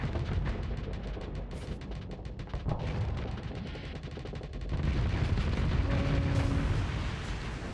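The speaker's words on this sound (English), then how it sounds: "we could have detonated the Colossus near the Atlas" A Colossus ship detonates in Starsector amid a dense rumble of explosions and rapid weapon fire, a rolling loud barrage building to a heavier sustained blast, with no talk.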